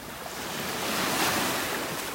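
Rough, churned-up surf washing onto a beach in North Naples, Florida, a continuous broad roar of breaking waves swelling slightly mid-way, with wind buffeting the microphone.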